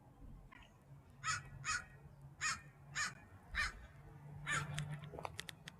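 A crow caws from up in a tree, about seven harsh calls in an irregular series, clear over a low steady background hum, ending with a few quicker, thinner calls.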